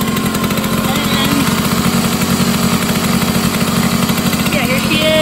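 A 1967 Hercules Saxonette Supermatic 222 TS two-stroke moped engine runs loud and close, a steady buzzing, rattling putter with rapid regular pulses throughout.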